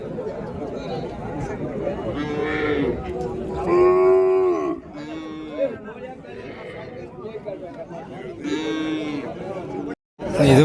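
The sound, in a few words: native cattle mooing at a cow market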